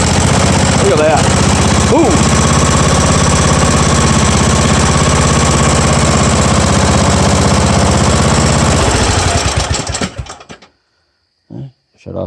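A 19 hp Briggs engine idles loud and close after its first start, a rapid steady knocking chug that goes on for about ten seconds, then cuts off. A few faint clunks and noises follow in the quiet.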